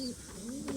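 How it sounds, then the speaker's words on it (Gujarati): A pigeon gives a brief, soft coo inside a pigeon loft under construction, faint and close, heard alone. "અહીંયા કબૂતર છે"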